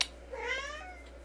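A house cat lets out a single drawn-out, rising meow indoors, close and clear over a faint low hum, with no talking.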